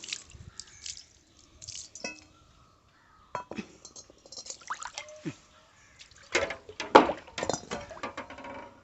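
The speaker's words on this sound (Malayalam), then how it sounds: "പുറകു വശവും ചുമ്മാ ഒന്ന് ഇച്ചിരി വെള്ളം ഒഴിച്ചൊന്ന് കഴുകാം കേട്ടോ" Water splashes and trickles while an iron pan is rinsed, its back side washed too, with intermittent clinks of metal and pouring bursts, close and moderately quiet.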